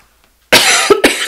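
After a moment of silence, a person nearby coughs sharply twice in quick succession, loud and raspy.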